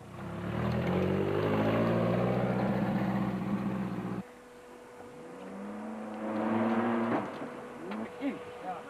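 A Class B race vehicle pulls out of the pits at the Lesotho Sun 400 in 2005, its engine loud and close, then dropping away before revving up again, with talk over it.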